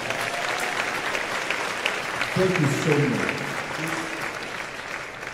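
An audience at a gospel concert tribute clapping, a dense steady wash of applause throughout while someone speaks over it near the mic.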